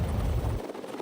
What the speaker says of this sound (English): These helicopters are made to take off and fly in winds that can exceed 100 miles per hour.